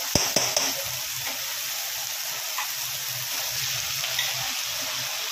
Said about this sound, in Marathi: मिरची थोडीशी हलकीशी फ्राय करून घेते आणि नंतर त्याच्यात बटाट्याची भाजी टाकून आपण फ्राय करून घेऊया.